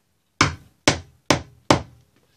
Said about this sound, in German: jetzt brauche ich einen Hammer